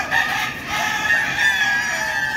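Laying hens cluck in a crowded poultry house with the lights turned off, while a rooster crows in a long drawn-out call that blends into the dense, continuous flock noise.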